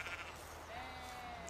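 A sheep gives one drawn-out bleat at moderate distance, rising slightly in pitch over a quiet outdoor background.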